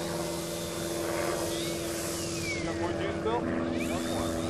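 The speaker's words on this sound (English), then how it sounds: "That's a Sig Rascal 110," A Sig Rascal 110 radio-controlled model airplane with a 110-inch wingspan drones overhead at an aerotow field, its propeller engine a steady, continuous hum with a shifting pitch, with people talking over it.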